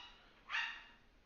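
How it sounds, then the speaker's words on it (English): A dog gives a single short bark, faint and somewhat distant, at a home; no one speaks. "My dog's going crazy."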